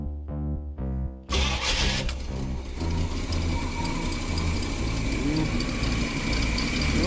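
An RV engine cranks with a rhythmic chugging, then catches and settles into a steady, close idling rumble.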